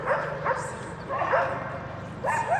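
Several dogs bark and yip in short bursts at a moderate distance in a town square, with a low motorcycle engine rumble running underneath.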